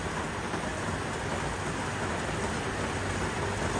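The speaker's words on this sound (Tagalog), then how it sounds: "Bumuhos na naman ang ulan." Heavy rain pours steadily, a dense, even hiss of water drumming on surfaces, close and loud throughout with no voices.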